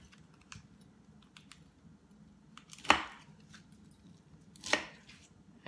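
A knife slicing deep into pineapple rind and core, two sharp crunching cuts about two seconds apart standing out over faint soft handling sounds, close and fairly quiet.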